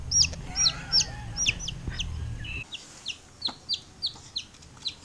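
A chick peeps in a steady run of sharp, high, rhythmic cheeps, close and clear at first over a low handling rumble, then alone.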